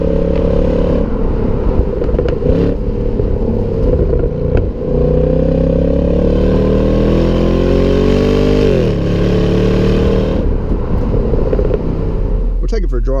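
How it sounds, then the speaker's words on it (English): A 2016 Holden Calais V Sportwagon with its LS3 V8 burbles deep and loud through the exhaust, rising and falling in pitch with a few revs, and someone talks over it. "for the Series 2 with the LS3, it definitely sounds really nice. It's got a nice chunky meaty soundtrack out the back"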